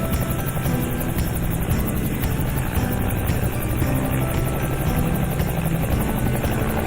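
A toy police helicopter gives off a constant, loud whirring buzz with a rapid rotor flutter. It holds steady and close throughout with no pauses.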